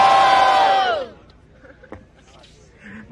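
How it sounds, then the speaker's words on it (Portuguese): A crowd at a street rap battle roars and shouts loudly for about a second, then fades into scattered murmur and faint voices. "Barulho pra quem gostou das rimas de Menor R. Salles"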